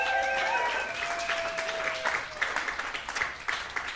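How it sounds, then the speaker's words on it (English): A studio audience applauds guest Syrus Marcus Ware on a late-night talk show, with broad steady clapping and a few faint tonal sounds near the start. "How about another round of applause for Syrus Marcus Ware?"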